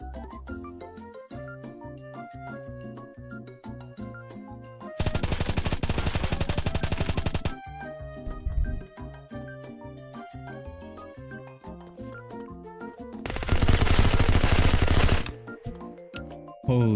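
Gunfire in the Roblox game Apocalypse Rising 2, loud sustained bursts of automatic fire in two long volleys, with rapid clicking and metallic game sounds between them.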